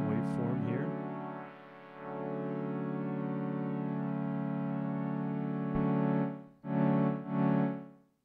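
A Behringer Deepmind 12 synthesizer patch with a second oscillator waveform added holds a thick, buzzy sustained tone that dips briefly, swells back and ends in a few rising and falling held chords, loud and alone.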